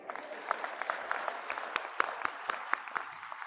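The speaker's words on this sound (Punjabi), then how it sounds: "ਇਸ ਗੱਲ ਲਈ ਤਾਂ ਆਪਦੇ ਆਪ ਲਈ ਤਾੜੀਆਂ ਬਣਦੀਆਂ ਤੁਹਾਡੀਆਂ" An audience applauding at a Punjabi political gathering: dense, steady clapping from many hands, fairly close and continuous, with sharper individual claps standing out.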